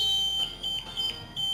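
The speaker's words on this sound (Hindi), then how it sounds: "यहाँ पर आप देख सुन सकते हो बजर जो हमारा बज रहा" A water overflow alarm buzzer sounds steadily in a high pitch, its tone pulsing slightly in strength, loud and close with no other sounds.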